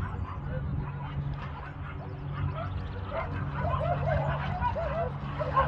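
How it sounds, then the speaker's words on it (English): Several dogs on a sunny day outdoors yip and bark excitedly in short, overlapping bursts, moderately close, over a low background rumble, with people talking faintly. "And the dogs are coming."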